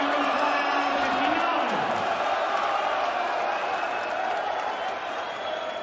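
Broadband roar of a packed darts crowd fills the whole stretch, loud and continuous, with a player, Cameron Menzies, gesturing to calm them as the noise eases only slightly toward the end.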